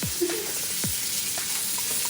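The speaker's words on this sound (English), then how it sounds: "we making Polish sausages." Polish sausages fry in a pan, a close, steady sizzle with a couple of sharp crackles and soft utensil taps, no talk over it.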